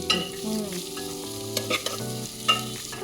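Garlic sautéing in butter, a short burst of soft sizzling mixed with stirring clinks and a faint tonal hum, no one talking.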